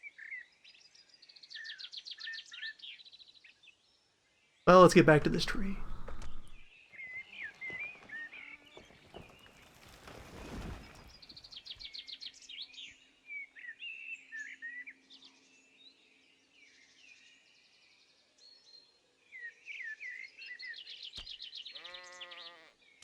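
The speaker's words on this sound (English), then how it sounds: "Birds are too quick for Fjorg." Bird calls in the survival game UnReal World: repeated high chirps and tweets in short bursts, with a loud thump partway through, a brief spoken line, and a trailing bleat-like call at the end.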